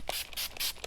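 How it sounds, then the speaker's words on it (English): Short bursts from a spray bottle hit boho craft tags, three or four quick close hisses in an uneven rhythm, alone and without talk. "I think I'll just spray a little bit"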